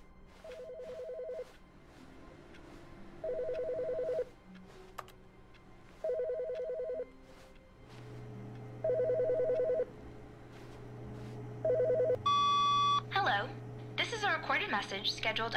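A telephone rings in The Stanley Parable, a repeating electronic trill in short bursts about every two seconds over a steady hum, then a recorded voice message begins after the last ring.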